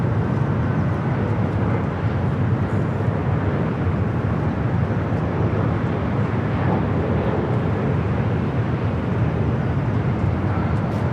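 A Delta Boeing 767 begins to taxi at LAX, a steady, broad engine rumble and roar that holds evenly throughout, with no voices.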